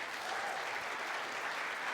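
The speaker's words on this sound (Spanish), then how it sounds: "Denle un aplauso al Rey de Reyes" A congregation at a church service breaks into dense, sustained applause that stays steady and fairly close for the full two seconds, with no voices rising above it.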